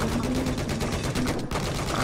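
Rapid automatic gunfire in the video game Battlefield 4, a dense continuous stream of shots with layered battlefield noise, loud and unbroken apart from one brief dip.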